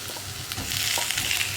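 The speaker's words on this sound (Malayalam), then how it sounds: "നമുക്കിതിലേക്ക് നമ്മൾ മുറിച്ച് വെച്ചിരിക്കുന്ന തക്കാളി ചേർക്കാം." Chopped tomatoes drop into onions already browned in a pan for an egg curry, giving a steady close sizzle and crackle with soft stirring scrapes, no voices.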